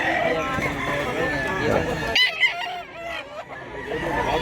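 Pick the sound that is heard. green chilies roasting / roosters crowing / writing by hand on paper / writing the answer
roosters crowing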